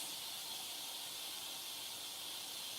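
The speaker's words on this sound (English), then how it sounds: "I have to make it a little bit faster, so I'm opening the pressure." Steady, broad hiss of steam venting from a pressure cooker of lentil soup, loud and continuous throughout with no talking.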